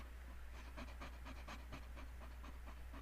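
A dog pants rapidly and rhythmically, close to the listener but faint, over a constant low hum with no talking.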